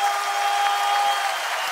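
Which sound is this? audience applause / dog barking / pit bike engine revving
audience applause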